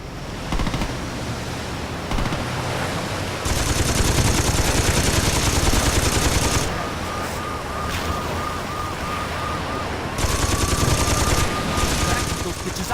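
Machine gun fire in the video game Saints Row 2 crackles in long, dense sustained bursts over a noisy, roaring backdrop, with short pauses between the volleys.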